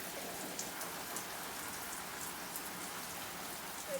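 Garden sprinkler spraying water without rotating, its spinning head stuck: a soft, steady patter of droplets like light rain, continuous and fairly faint with no rhythmic sweep.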